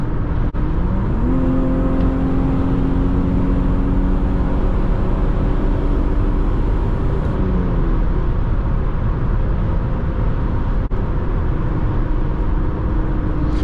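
A 2006 Infiniti FX35 drives steadily with a loud, constant engine and road drone while the transmission works through smooth shifts, the engine note stepping up and settling, with no talking.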